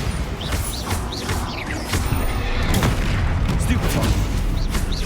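The Bombarda explosion spell goes off in the Hogwarts Legacy video game: heavy booming blasts and crackling impacts amid dense combat noise, with voices in the mix.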